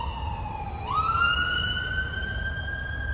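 Emergency siren wailing outside, a steady rising-and-falling tone that swells slightly louder partway through, over a low rumble of street background with no talking.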